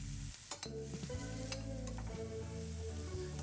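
Butter, garlic and green chillies sautéing in a hot pan, a steady close sizzle with a few clinks and scrapes of stirring, no voices.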